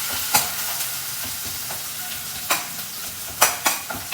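Onions fry in a pan until brownish, a steady moderate sizzle punctuated by several sharp spatula knocks and scrapes, with no talking.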